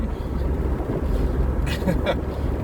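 Loud, steady wind rush and engine rumble of an MGF roadster driving with the roof off, with a few brief sharper noises near the end.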